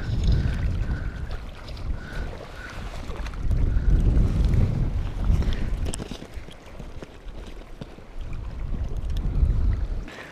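Wind gusts across an open boat while fishing, a loud low rumble of wind buffeting the microphone that rises and falls in swells, with faint water and boat noises underneath.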